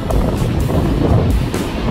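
Strong wind along a sea coast buffets the microphone in a steady, loud roar with gusty low rumble throughout, no voices present.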